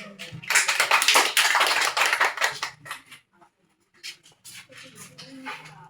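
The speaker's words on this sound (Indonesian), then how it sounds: "Tepuk tangan buat kelompok." Classroom group applause during a lesson, a burst of quick claps from several students that fades after a few seconds into scattered taps and light movement.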